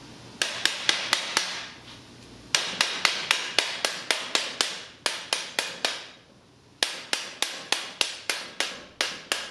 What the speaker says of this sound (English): all this shrinkage has just added up to a real loose sounding wheel